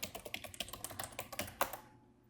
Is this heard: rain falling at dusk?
no